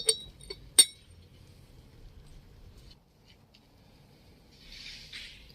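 A few light clinks of a porcelain teapot being unpacked, two sharper than the rest near the start, then quiet handling noise and a soft rustle toward the end.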